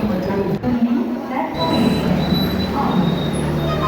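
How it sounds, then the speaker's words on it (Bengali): A Vande Bharat train pulls in at Howrah station with a loud, close rumble of rolling wheels and a thin metallic squeal over the station noise. "কিছুক্ষণের মধ্যেই বন্দে ভারত চলে এসছে গাইস।"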